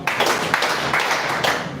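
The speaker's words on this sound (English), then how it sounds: "Please give me 10 claps." Audience clapping in a room during a live speaking event, a dense burst of hand claps with a few louder peaks, steady and fairly close for under two seconds.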